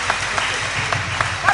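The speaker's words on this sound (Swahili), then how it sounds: "Wapigieni tena makofi." Applause from a church congregation honouring a football team during a Swahili service at ACK St. Stephens Church, Bamburi: dense, steady clapping fills the whole stretch at an even, fairly close level.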